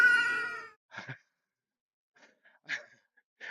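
After a taste of pistachio ice cream, a cat lets out one loud, close meow, followed by faint, scattered mouth and snuffling sounds with silence between them.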